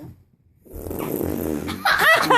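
A child blows a wet raspberry with the mouth to imitate a fart, a long buzzing sputter followed by a louder burst, close and loud, with no one speaking.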